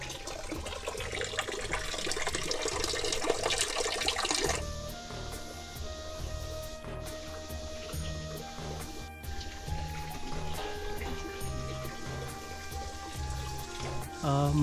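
Water flows continuously at the source of the Son river in Amarkantak, a steady close trickle and gurgle with a brighter splashing rush in the first few seconds before settling into a softer, even stream.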